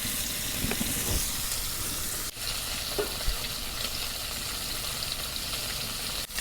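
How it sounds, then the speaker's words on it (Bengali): Pangas fish frying in a very hot wok over a village clay stove, a steady close sizzle with stirring scrapes and a couple of sharp knocks, no talking. "মাছ ভাজা হচ্ছে"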